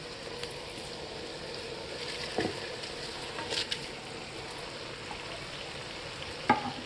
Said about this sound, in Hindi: इसको हल्के हाथ से सब्जियों के साथ ऐसा 1-2 मिनट भून लेना है तेल में